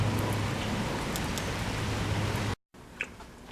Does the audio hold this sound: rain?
yes